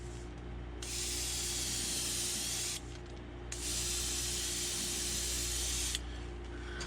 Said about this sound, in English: All right, and spray it from a distance.